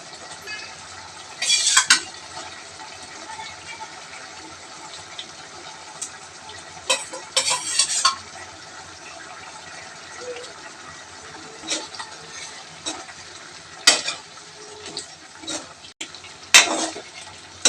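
A prawn curry cooks in a pan as a ground garlic and cumin paste is added. Soft bubbling and stirring run throughout, with a few louder scrapes and sizzling bursts, close by and without talking.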